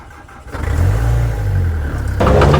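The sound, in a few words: old excavator engine struggling to start in the cold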